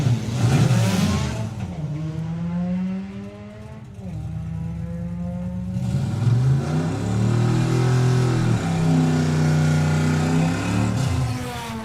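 Drag racing at a strip, a Mustang and a Nissan 180 launch with loud, close engine roars that rise in pitch through the gears, one dropping briefly before both surge again and hold a strong, sustained drone.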